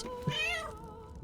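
A cat in Baldur's Gate III gives a single clear meow, rising then falling, close and alone against a quiet background.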